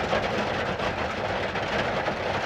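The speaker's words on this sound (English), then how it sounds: "That's the rain. It's actually pretty therapeutic, but it might be too loud for the video." Heavy rain falls in a loud, continuous wash of noise with a low rumbling underlayer, steady and close throughout with no voices.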